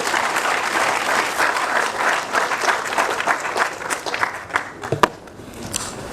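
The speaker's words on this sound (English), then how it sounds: "Let's give him a hand of applause" An audience at an engineering institution induction ceremony applauds, a broad sustained roar of clapping that gradually thins into a few louder individual claps near the end.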